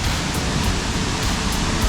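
A loud, continuous roar of a waterfall in Cueva del Esplendor, steady broadband rushing water heard close with no voices.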